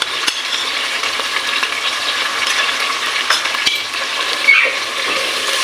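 Chicken frying in a pan with ginger garlic paste and green chili paste, a steady bright sizzle with scraping stirring strokes throughout, close and fairly loud, no voices.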